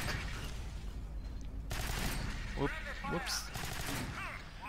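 Automatic weapon fire in the co-op shooter game Alien Swarm, a continuous rattle of shots under a brief spoken word and some chirpy electronic effects.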